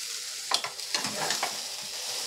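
Chopped tomato sizzles in hot oil with spices for a Bengali katla fish curry, close and crackly, with a few quick scrapes of a spoon stirring the pan over a steady frying hiss.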